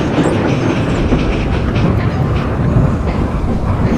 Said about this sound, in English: They chuffed gently into the station.